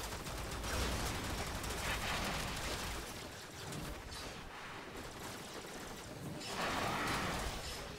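Gunfire in the sci-fi shooter Warframe, rapid bursts of automatic shots blending into a dense rattle, swelling in two louder volleys with a brief lull between.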